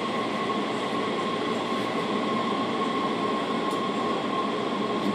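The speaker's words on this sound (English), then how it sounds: "There's another train coming in" A metro train pulls into a station, heard from the platform as a steady, continuous rumble with a faint high wheel squeal running through it, moderately loud and without voices.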